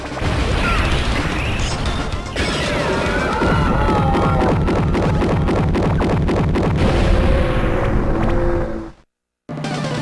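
Astro Boy blasting enemies in the Game Boy Advance game Astro Boy: Omega Factor, a dense, loud run of rapid shots, bursts and crashes over pulsing game music, cutting to a brief silence near the end.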